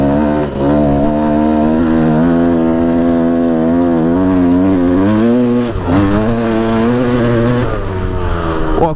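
A Kawasaki KDX enduro motorcycle's two-stroke engine revs loud and close at night, holding a high buzzing pitch that rises and dips slightly, with a sharper blip of throttle near the middle.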